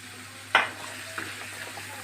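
Chopped carrot and potato with curry leaves and masala sautéing in a pan for an egg stew, one sharp stir or scrape over a low, even sizzle, close and quiet with no talk.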